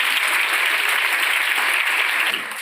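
Audience at a school event clapping in a dense, sustained burst of applause that fades slightly at the end, no voices over it.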